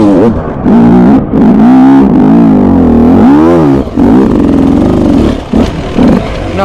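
A motorcycle accelerating in third gear during a riding lap, its engine loud and very close, with a droning note whose pitch swoops up and down as revs rise and ease, nearly continuous with a couple of brief dips.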